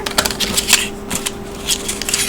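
Paper craft box lid being folded and assembled by hand, giving a run of quick, close crisp rustles and taps from card stock, with a steady faint hum underneath.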